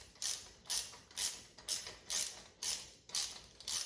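A socket wrench ratchets while tightening a bolt on a 1974 Schwinn Varsity bicycle: eight crisp, evenly spaced clicking pulls, close and loud, with no talk.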